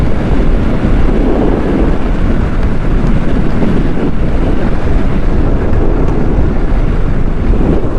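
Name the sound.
strong wind blowing dust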